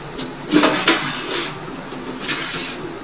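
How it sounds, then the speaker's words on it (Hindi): Dishes being washed in a home kitchen, with a few clinks and clatters of pots and utensils standing out against running-water hiss, close and moderately loud. "अब मैं धोने लगी हूँ जी बर्तन।"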